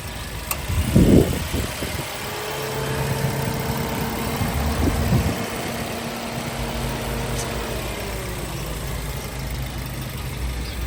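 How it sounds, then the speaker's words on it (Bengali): A Toyota Yaris 2023 model car engine idles with a steady low rumble, a couple of louder revving bursts early on, then a constant hum. "ইঞ্জিনের সব কিছু সাউন্ডটা শোনেন আপনারা"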